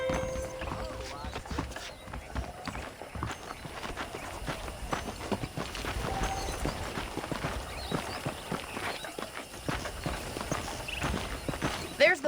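Horse hooves clip-clop steadily in the Red Dead Redemption game, a continuous walking rhythm with occasional louder steps, heard under game speech and ambient background.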